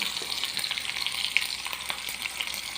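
Steady, crackling sizzle of whole onions frying in hot oil, with scattered pops and faint stirring scrapes, close and continuous.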